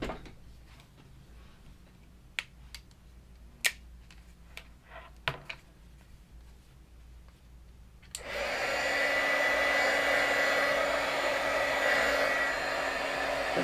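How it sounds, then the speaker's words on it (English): Heat gun switching on over a stamped watercolor card, a few light clicks and taps first, then a sudden steady loud blowing roar that continues to the end. "Actually, I'm just going to go ahead and hit it with the heat gun."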